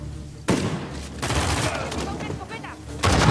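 Gunfire in Uncharted 4, a combat video game: loud bursts of rapid shots in quick succession, with dense rattling volleys breaking out after a brief quieter moment and again near the end, a voice talking under them.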